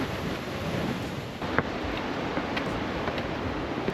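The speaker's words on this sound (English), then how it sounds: "You can just spend hours watching the waves roll in." Ocean waves rolling in along a wild coastline near a rock pool, heard as a steady, broadband wash of surf with some wind noise, continuous and moderately loud with no talking.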